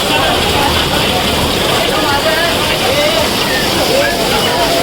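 Loud, continuous monsoon downpour on a pat puja ceremony in Ghatkopar, Mumbai, with a thick hiss and splashing texture that never lets up, close and enveloping.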